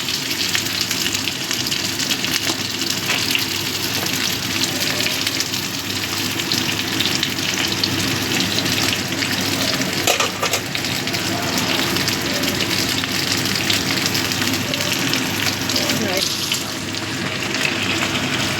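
Flat beans fry in hot oil for a dal shukto, making a dense, steady crackling hiss like heavy rain that carries on evenly for a long stretch with no talk.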